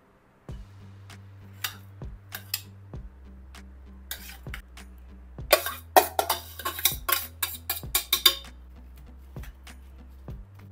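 A spoon mixes cooked rice with chopped chillies and coriander in a dish for rice cutlets, making a run of light metallic clinks and scrapes. A low steady hum sits underneath.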